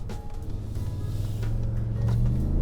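A 2019 Ford F-150 Limited with a twin-turbo engine revs up, its low rumble rising steadily in pitch and loudness as the throttle opens.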